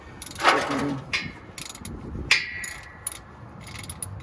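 Ratcheting 3/4 wrench working a part loose on a 2015 Ford Mustang 5.0 with over 100,000 miles, heard close up as a few sharp metallic clicks and scrapes spread irregularly across the moment, with no talking.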